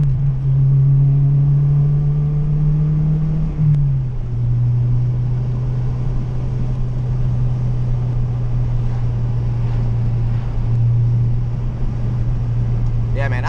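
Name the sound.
2002 Acura RSX driving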